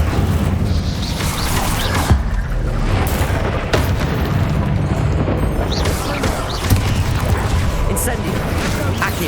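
Incendio fire spell cast repeatedly in Hogwarts Legacy, a dense, loud rumbling burst of flame with booming low thuds and mechanical clatter running continuously, speech-like voices mixed faintly underneath.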